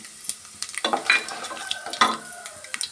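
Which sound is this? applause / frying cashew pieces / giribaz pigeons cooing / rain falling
frying cashew pieces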